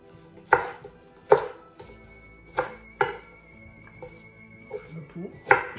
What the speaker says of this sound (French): Là, j'ai les oignons nouveaux. Donc, je vais couper grossièrement